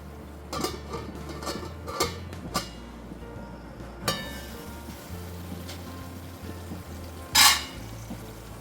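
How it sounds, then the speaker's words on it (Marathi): Pumpkin curry simmers on a low flame while a spoon stirs it, with scattered clinks of metal against the pot and one sharp scrape near the end. The kitchen is otherwise quiet and nobody speaks. "आणखी 5 मिनिटं आपण ही मंद आचेवर शिजवून घेऊया"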